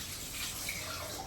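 Tap water runs while a bottle is rinsed out in a home kitchen, a steady close splashing flow with no voices.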